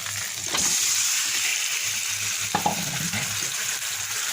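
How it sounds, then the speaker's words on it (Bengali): Chicken pieces hitting a pan of fried spice paste set off loud, steady frying with a burst of sharper sizzle midway and brief stirring scrapes, no talk. "মশলা কষা হয়ে গেছে এবার চিকেনগুলো দিয়ে দেবো"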